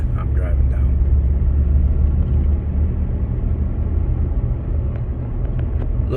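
Steady rumble of an RV cruising down Highway 24, with engine and road noise continuous and fairly loud throughout and no one speaking.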